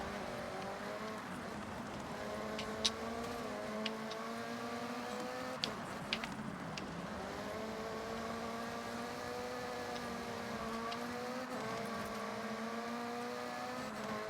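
A Lamborghini engine racing in the video game Forza Horizon 6, with a steady sustained whine that rises and falls through gear changes and a few sharp clicks on top, heard with no talk.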